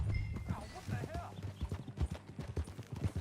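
Horse ridden in Red Dead Redemption 2 at a steady trot, rhythmic hoof clip-clops close by with a brief whinny, while voices talk over it.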